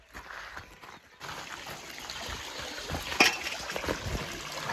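Cold water runs from a village water spout in rural Nepal, a steady splashing trickle that fills the scene at close range, with faint voices and movement around it.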